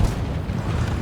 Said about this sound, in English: I've just heard the gunfire from the right.